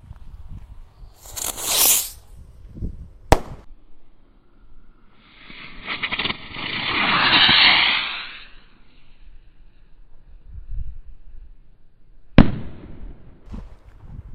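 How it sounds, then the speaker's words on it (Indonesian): A small Circle Blitz spinning firecracker fizzes and hisses with a whirring spin, between a couple of sharp pops, surrounded by quieter outdoor background. "Selanjutnya ini ada mercon Circle Blitz ukuran mini ya."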